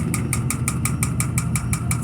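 An Electrolux Perfect Wash 16kg washing machine spinning at 630 RPM and shaking, giving off a loud, steady mechanical rumble with a regular rapid rhythmic knocking or clatter running throughout, no voices.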